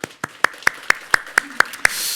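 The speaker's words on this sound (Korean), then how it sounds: "이 시간 우리 이 청년들을 위해서 우리 하나님께 감사의 박수 올립시다" A church congregation claps in a slow, steady rhythm, about eight distinct sharp claps spaced evenly apart, followed by a soft wash of room noise.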